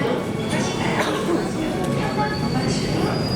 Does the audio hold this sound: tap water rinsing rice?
no